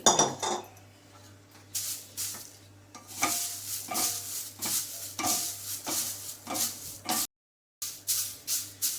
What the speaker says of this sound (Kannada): ಈಗ ಇದನ್ನು ಹಾಕಿ ಹುರಿದ್ಬಿಡೋಣ